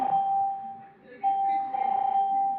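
A ThinkPad laptop imitates a telephone: a thin electronic tone rings in repeated bursts with a brief pause between, faint and close against quiet room noise.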